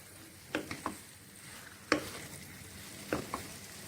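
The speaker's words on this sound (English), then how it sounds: "now just give this a good mix. I like to do while the pan is hot." Chicken bolognese pasta stirred in a hot pan gives a low, steady sizzle, broken by a few sharp scrapes and clacks of the utensil, close and fairly quiet.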